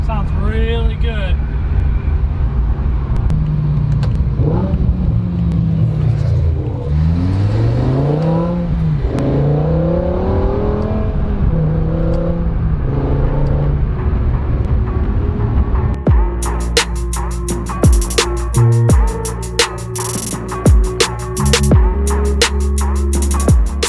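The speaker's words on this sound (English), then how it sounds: "So that is me ripping around in the M5." A BMW V10 M5 with an SMG gearbox accelerates hard: the engine note climbs and drops through several rising revs with gear changes, then turns into a loud, rough, broadband roar toward the end.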